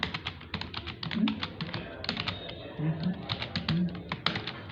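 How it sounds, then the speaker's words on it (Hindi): Computer mouse clicks in a quick irregular series of sharp, close taps, heard beneath someone speaking throughout while demonstrating spreadsheet data validation. "चलिए देखिए, मैं क्लिक कर रहा हूँ, ऑटोमेटिक मैसेज दे रहा है"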